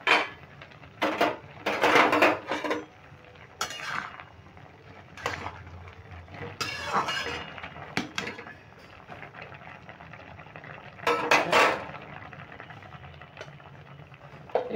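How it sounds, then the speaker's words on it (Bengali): A lid comes off a cooking pot after steaming, followed by utensils and plates being handled: several loud, irregular clatters and knocks of metal and crockery spread over a quiet background, with no talk. "এবার আমি ঢাকাটা খুলে নিচ্ছি"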